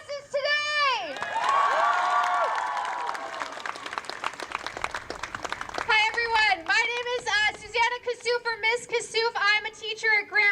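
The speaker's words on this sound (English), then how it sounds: "Can we get a huge round of applause for our incredible, courageous organizers?" Rally crowd outside a school district headquarters cheers with shouts and whoops over clapping; a voice sings out first, then the crowd roars, and several people call out loudly near the end.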